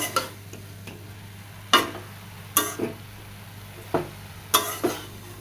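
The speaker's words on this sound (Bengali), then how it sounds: "ঢাকনি দিয়ে ঢেকে দিব শাকটা ঢেকে ঢেকে ভেজে নিচ্ছি একটু" Pumpkin leaf greens fry under a lid in a pan, a low steady sizzle broken by about eight sharp scraping stirs and clanks of utensil against metal, close and distinct.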